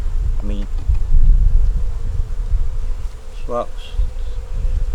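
Honey bees buzz around a deep nuc hive that has been robbed out, leaving only a few bees and the queen: a close, low droning hum with a couple of brief louder passes of individual bees.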